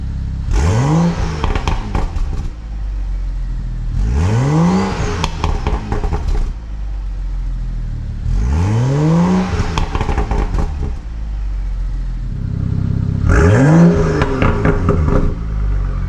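A BMW engine fitted with an exhaust cutout valve revs hard four times in a row, each a loud rising and falling snarl with crackling exhaust. The bursts are close and separated by rough idle.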